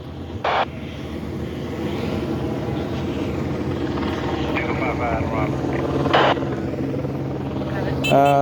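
Helicopters hover over a serious crash scene on Seaver Street in Boston, a steady droning whir holding in the sky while street noise and faint voices drift underneath, with a couple of sharp bursts.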